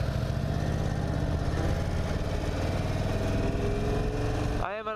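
Indian Super Chief Limited cruiser motorcycle engine running while riding in traffic, a steady close rumbling drone throughout, with a sudden shift in tone just before the end.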